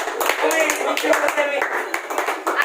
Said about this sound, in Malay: kita bagi tepukan kepada grup yang ketiga